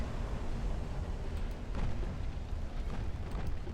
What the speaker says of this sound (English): Your torpedoes detonated, I think.